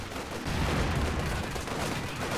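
Machine gun fire rattles in the real-time strategy game Company of Heroes 2, a dense, continuous burst of loud gunfire with no pauses.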